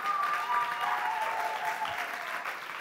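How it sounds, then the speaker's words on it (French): Steady audience applause fills a hall at a youth event in Bordeaux, a dense even wash of clapping that holds for a few seconds and fades slightly at the end, with no voices over it. "Oui, applaudissez-la, elle arrive"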